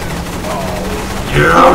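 Gunfire in the video game Saints Row 3, a burst of rapid shots mixed with game effects while a player talks over it.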